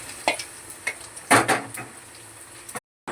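Tempering sizzling in a pan for gongura chicken pickle, with steady frying hiss and a few sharp scraping knocks of a spoon, close up, ending in a brief cut of silence; no talk.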